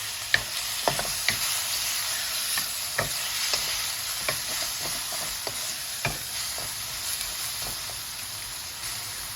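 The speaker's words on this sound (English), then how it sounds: "Turn the heat to high and immediately add the tripe. Cook, stirring constantly for about 2 minutes." Beef tripe frying in a pan over high heat while stirred constantly, a steady sizzle cut by repeated sharp scrapes and clacks from the stirring utensil.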